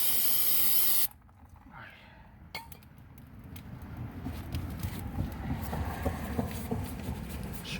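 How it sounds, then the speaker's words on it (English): Brake cleaner sprayed onto the caliper of a 2015 Toyota Camry during a brake pad and rotor job: a loud hissing blast at the start, then quieter dripping, fizzing, and faint clinks and rustling close by. "let's put some brake cleaner again."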